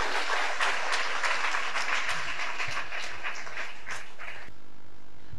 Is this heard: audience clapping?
yes